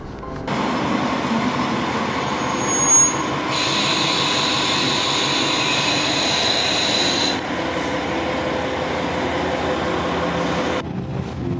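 A train in Japan's Hokuriku region rumbles steadily along the rails toward Takaoka for the whole stretch, with a brighter rushing hiss swelling partway through and then easing off.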